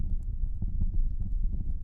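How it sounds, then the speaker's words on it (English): Several horses galloping fast in a Western ranch setting, a dense, steady drumming of hooves with a low rumble that holds throughout at moderate loudness, with no voices. "The sound of horses cut through the moment. Multiple horses, moving fast."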